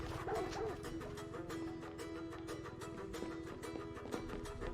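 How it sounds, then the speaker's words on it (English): Dog barking and yipping amid game noise in Far Cry 6, steady background score with a dense bed of sound and repeated short barks throughout. "Puppy!"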